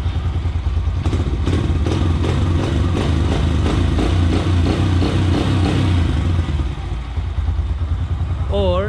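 A motorcycle engine idling after a carburetor mixture screw adjustment, a steady loud close-up chugging with even rhythm and mechanical clatter, a slight dip in the middle, and a voice speaking briefly near the end.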